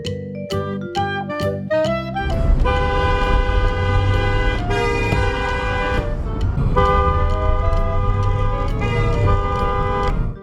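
Several short car horn toots open the scene, followed by long, sustained honks blaring back and forth between drivers in a parking lot, loud and close with brief gaps.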